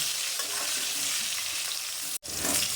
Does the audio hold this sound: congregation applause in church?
no